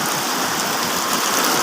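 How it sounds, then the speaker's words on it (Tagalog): Heavy rain pouring steadily in Cebu, Philippines, a dense, continuous hiss and roar of water on surfaces, loud and close with no pauses. "Ang lakas ng ulan dito sa Cebu, here in Philippines."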